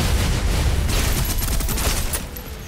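Suppressive gunfire in a video game comes as a continuous, loud burst of rapid shots with booming impacts. It carries through to the end, easing slightly near the finish, with no talk.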